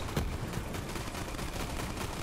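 A purple SMG in Borderlands 3 fires a rapid, continuous stream of shots that stays loud and steady for the whole burst, with no talking.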